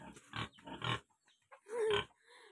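Large farm pigs grunt in a few rough bursts close by, separated by short quiet gaps, with no talk over them.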